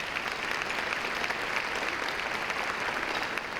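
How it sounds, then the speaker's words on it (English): Steady applause from a large audience at a Martin Luther King luncheon, a dense and even wash of clapping that continues without pause throughout, with no talking heard above it. "Will you please give them a round of applause?"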